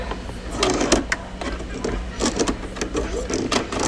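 A sewing machine stitches a buttonhole, its needle mechanism chattering in quick uneven bursts of clicks and thumps close by, over a low motor hum.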